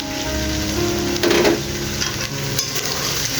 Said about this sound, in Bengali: চিনিটা এখন ভালো করে নাড়াচাড়া করে ভেজে নেব।